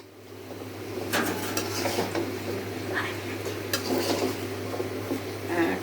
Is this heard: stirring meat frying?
yes